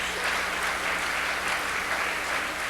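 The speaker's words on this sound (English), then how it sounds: "you may clap if you wish" An audience at a seminar on glass furniture and lighting claps after a lecture, a steady, even patter of many hands across the whole stretch, moderately loud and without speech.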